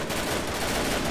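Gunfire in a WWII video game with the Totaler Krieg mod, a brief dense burst of rapid shots rattling loudly with no talk.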